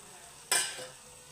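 A pan of ridge gourd palya with garlic and ginger gives off a sudden hissing sizzle that swells and then fades over about a second. It is close and fairly quiet, with nobody talking.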